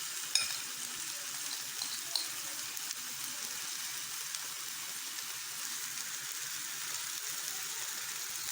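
Aloe vera heats in coconut oil in a pan, giving a constant, soft, hissing sizzle with a couple of faint clicks near the start and no talking.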